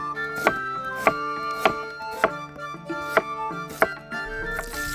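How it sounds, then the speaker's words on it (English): A knife slices onions on a cutting board for caramelizing, about eight sharp, evenly spaced chops cutting through a steady tonal hum of background music. "Now we're going to start preparing our caramelized onions. We can start doing this by giving them a good slice."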